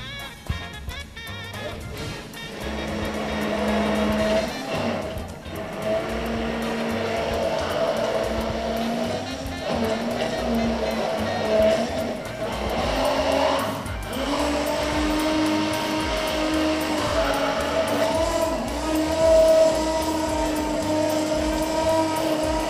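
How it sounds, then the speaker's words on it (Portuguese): A hand mixer whirs steadily through low-carb pancake batter, a close, loud motor hum that shifts in pitch as it works, running continuously with no talk. "A gente aqui vai usar o, o mixer que é mais fácil, mais rápido."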